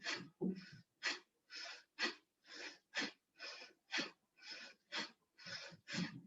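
Forceful Bhastrika pranayama breathing during a yoga session, about thirteen sharp, loud breaths in a steady even rhythm, close up with no talking.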